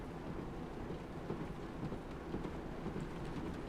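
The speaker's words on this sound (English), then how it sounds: "we're still getting quite a lot of rain on the windscreen." Steady heavy rain beats on the windscreen of a Class 156 diesel train cab in Train Simulator 2020, a dense continuous patter with a low rumbling bed and no voices.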